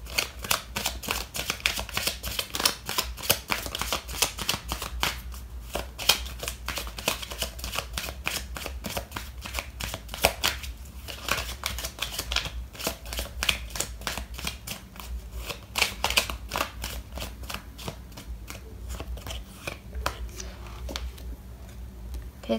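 Tarot cards shuffled at length before a card is drawn for a reading, a long close run of rapid, rhythmic flicking clicks and riffles that carries on steadily without pause.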